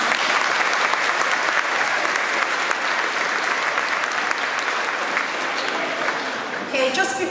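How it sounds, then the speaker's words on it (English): Dense, sustained applause from a crowded audience at a graduation certification ceremony, a steady wash of many hands clapping throughout before fading slightly at the end as a voice begins. "Give yourself a round of applause."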